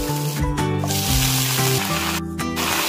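Dried fish fries in hot oil with steady sizzling, close and continuous, with a tonal musical background running underneath.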